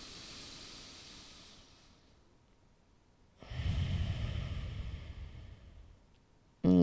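Slow, deep breathing during a bedtime yoga routine: a long soft inhale fades out, then after a pause a fuller, louder exhale hisses steadily for a few seconds, close and alone.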